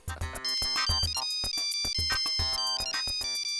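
A phone ringtone plays as a bright, repeating electronic melody of clipped tones, loud and close, sounding steadily for a few seconds with no talking over it.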